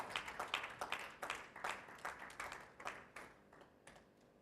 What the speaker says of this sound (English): Ladies and gentlemen, help me give a round of applause for Adaju Shegun.